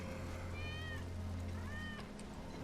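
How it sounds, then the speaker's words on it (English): A cat meows twice in Final Fantasy VII Remake, two drawn-out rising-and-falling cries about a second apart, heard over a steady low game hum and background ambience. "That's Wedge's cat."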